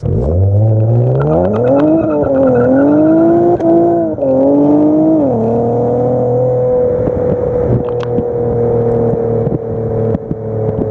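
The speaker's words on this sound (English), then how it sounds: "one of the best sounding exhausts for the VR30. Like, come on, hear this." An aftermarket exhaust on an Infiniti Q50 Red Sport with the VR30 engine revs hard, its pitch climbing and falling through several loud pulls before settling into a steady, throaty rumble, close by.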